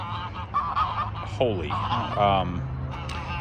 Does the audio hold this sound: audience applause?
no